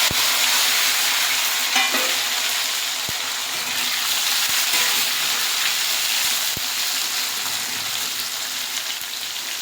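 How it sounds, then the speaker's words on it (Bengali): Bay leaf, dried chillies, whole spices, onion and tomato fry together in hot oil for a chicken curry, giving a steady, loud sizzle with occasional stirring scrapes and faint clicks throughout, with no voices. "ওখানে তেজপাতা, শুকনো লঙ্কা, গোটা গরম মশলার পেঁয়াজ আর টমেটোটা একবারেই দিয়ে দেয়।"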